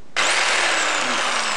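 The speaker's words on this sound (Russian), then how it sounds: "вот двигатель работает, а пилка не пилит" An old electric jigsaw with a fault where the motor spins but the blade does not move, its motor switching on abruptly and running with a steady, loud, close-up whine throughout.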